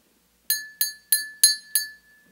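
Water-filled drinking glass struck with a metal key, five bright ringing clinks in an even rhythm, each with a short sustained tone that decays quickly, close and clear with no talking.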